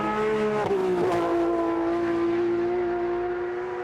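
A Porsche Carrera Cup GB race car passes with a steady, loud engine drone, a quick gear change early, then holding a high, even pitch as it pulls away.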